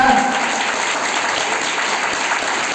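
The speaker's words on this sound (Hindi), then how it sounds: "तालियों के साथ परमेश्वर का धन्यवाद करें।" A church congregation at a Hindi-language Christian service applauds together, producing a loud, continuous wash of many hands clapping from start to finish.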